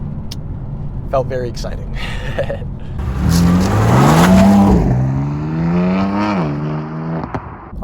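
A 2018 BMW M4 launches hard after a clutch drop, its engine surging and rising in pitch, dipping through a shift and climbing again, loud and close, with a person talking before and during the run.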